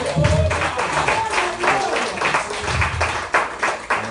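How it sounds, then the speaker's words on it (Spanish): Congregation applauding inside a church, a dense steady patter of many hands sustained throughout, with a voice carrying over it. "Dele aplauso al Señor Santo"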